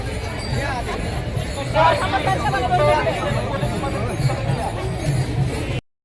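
A dense crowd of pilgrims at the Sant Dnyaneshwar palkhi procession, with loud continuous babble from many voices close by and chatter swelling in places.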